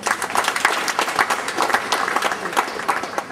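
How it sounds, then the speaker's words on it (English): Lively audience clapping at a gathering, brisk overlapping claps forming a loud, continuous patter throughout. "Clap for ourselves."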